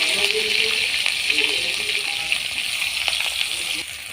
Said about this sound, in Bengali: পাঁচ ফোটন দিয়ে দিচ্ছি এবার দিয়ে দেব কাঁচা লঙ্কা পেঁয়াজ কুচি